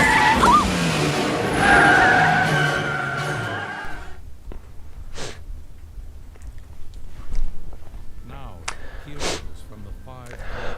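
A car skids with squealing tires in a chaotic driving scene from a game, loud and busy for the first four seconds, then giving way to scattered bursts, breaths and voices.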